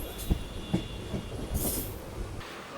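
Goods train at Tulsipur railway station in Uttar Pradesh, rumbling along with rhythmic wheel clacks and a brief high squeal, heard close and fairly loud with no talking.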